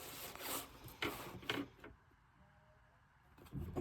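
A sheet of paper being cut to size for a small laminated notebook, a few short scraping, swishing strokes close by, followed by a quiet pause and a final rustle.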